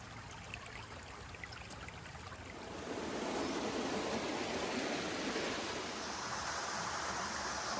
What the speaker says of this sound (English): I'm at the base of this beautiful little waterfall along a calm little creek